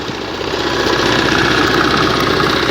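An old Xingtai 120 tractor engine, thirty years in use with a two-furrow plough, runs loud and close with a steady knocking chug.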